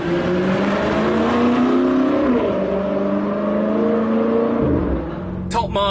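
A BMW M5 safety car on a race track drones close by, its engine note rising and falling through gear changes and settling into exhaust burble as the throttle lifts, with a short crackling burst near the end.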